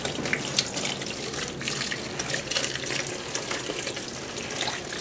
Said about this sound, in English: Guess it doesn't hurt to give them another soaking.